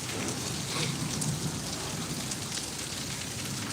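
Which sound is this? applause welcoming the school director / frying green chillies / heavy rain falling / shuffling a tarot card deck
heavy rain falling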